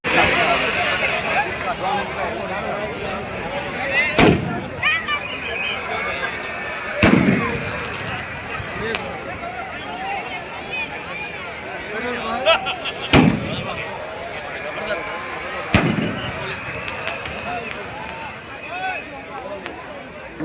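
Firecrackers packed inside a Ravan effigy burst during Ravan Dahan in Bhavnagar, with sharp, loud bangs spaced a few seconds apart over a dense crowd murmur while someone talks throughout.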